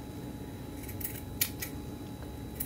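Scissors trimming a fabric bead: a few faint, quick snips in an irregular rhythm against a quiet room, heard up close.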